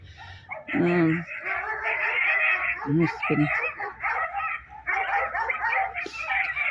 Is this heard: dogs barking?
yes